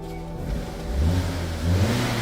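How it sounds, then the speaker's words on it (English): A Vauxhall Corsa engine runs steadily close by, its noisy exhaust giving a rough, throaty drone that swells slightly in a couple of gentle revs. "I think the exhaust's a little noisy."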